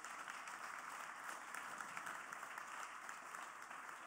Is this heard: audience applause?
yes